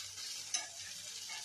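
Potatoes fry in a pan with a steady, quiet sizzle and one brief stirring scrape partway through.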